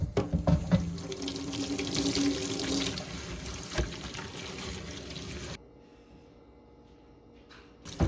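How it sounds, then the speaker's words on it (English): Tap water runs steadily into a sink as it is rinsed and washed before hair washing, a continuous splashing stream for about five seconds that then cuts off, leaving near quiet with a faint clunk at the end. "Here I'm just washing the sink because I'm not about to be washing no dirty hair in a dirty sink"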